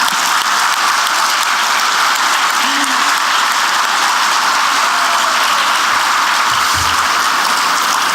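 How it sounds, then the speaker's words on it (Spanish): Sustained audience applause fills a national conference hall on the penitentiary system, a dense, steady wash of clapping from a large seated crowd that holds at an even level throughout, with no voices standing out. "dense un aplauso"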